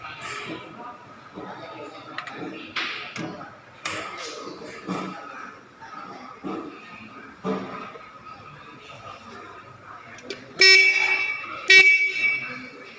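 A car horn honks briefly a couple of times near the end, loud and close, after a stretch of clattering and a speaking voice.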